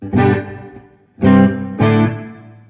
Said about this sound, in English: have a shorter reverb here in channel B with a little bit of a decay going on